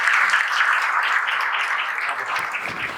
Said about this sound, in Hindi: नीरज के लिए जोरदार ताली बजाएंगे सभी।